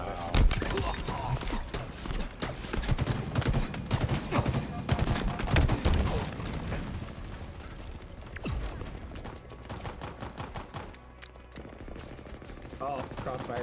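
Halo Infinite crossfire, with dense rapid automatic gunfire and overlapping shots, mechanical clacks and game effects loud and close throughout, thinning toward the end while a voice talks briefly.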